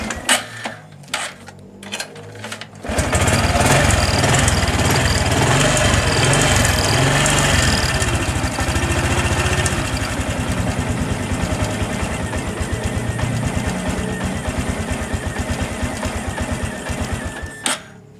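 A Honda Supra X 125 PGM-FI motorcycle, with a faulty starter dynamo, cranks for a few seconds, then catches and idles loudly and close, a steady rapid chugging with a slightly heavy, uneven idle, before cutting off at the end.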